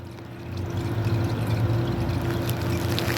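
Old gas and oil draining from a 2004 Kawasaki Vulcan 500 into a 5-quart pan, a steady, close pouring rush over a low hum, with no talk.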